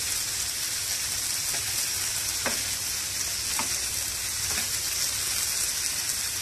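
Tomatoes sauté in a pan for channa masala, a steady close sizzle and crackle with a few soft stirring scrapes and no talking.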